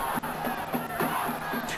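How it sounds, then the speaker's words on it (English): A football stadium crowd murmurs as spectators file in, a steady, moderately loud wash of distant chatter with scattered faint shouts and thumps. "Crowd's filing in a little bit."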